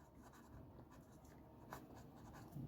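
A pen scratches steadily across paper close by as a maths answer is written out in a class 6 lesson, faint continuous strokes with small bursts and no talk.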